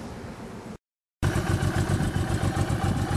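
A 2006 Honda VTX1800S2 cruiser motorcycle engine running nearby with a loud, pulsing rumble, cut by a brief silent gap before resuming steadily.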